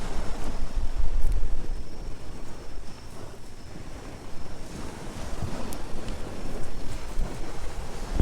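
Steady wind buffets the microphone on a beach by the sea, a continuous low roar and rumble with surf washing beneath it, no voices.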